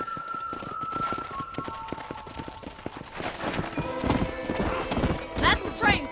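Steady clip-clop of horse hooves trotting, joined by a horse whinnying near the end over a busy background of other sounds, in the video game Red Dead Redemption.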